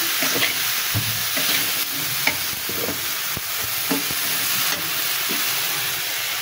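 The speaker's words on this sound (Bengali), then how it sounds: "এইভাবে কষিয়ে নিতে হবে।" Taro stolons being stirred and sautéed in a pan, a steady close sizzle broken by repeated scraping strokes of a spatula, with no talk.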